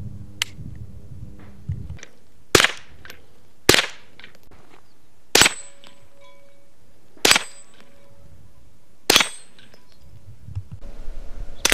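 Five sharp, cracking small-caliber rifle shots ring out one by one at roughly even intervals, each loud and brief, separated by quiet pauses.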